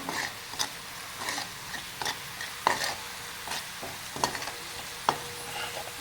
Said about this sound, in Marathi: चटणी पण आपण एक अर्धा मिनिटभर छान तेलात परतून घेऊया